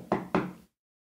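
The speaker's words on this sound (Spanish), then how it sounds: "ella tocó a su puerta" Two firm knocks on a wooden door, close and dry, spaced about a quarter second apart, then silence.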